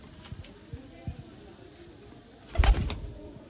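Pigeons in a loft in Sialkot coo softly in short repeated bursts, with a louder flurry near the end and a voice heard faintly in the background.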